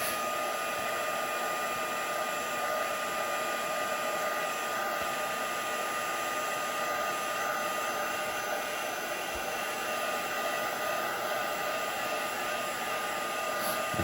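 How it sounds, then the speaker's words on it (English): A heat tool or dryer drying a distress oxide ink background on a card, a steady loud whooshing blow held without a break throughout. "I'm just going to give this a dry."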